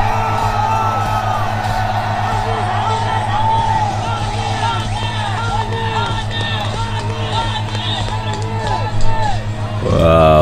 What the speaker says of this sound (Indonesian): Malah Para pedagang teriak Pak Anies, Pak Anies, Pak Anies.